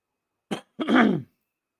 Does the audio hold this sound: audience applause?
no